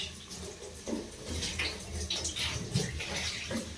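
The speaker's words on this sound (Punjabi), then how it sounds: "ਦੇਖੋ ਆਲੂ ਧੋ ਕੇ ਪਾਈਦੀ ਆ ਕਿਉਂਕਿ ਕਾਫੀ ਮਿੱਟੀ ਹੁੰਦੀ ਆ" Soil-covered potatoes are rinsed by hand in water, giving soft sloshing and splashing in uneven bursts, fairly close and quiet, with no talking.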